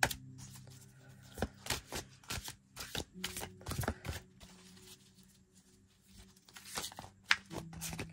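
A deck of cards is shuffled by hand at close range, giving a soft, uneven series of riffling and slapping bursts that swell and fade over several seconds with no voice.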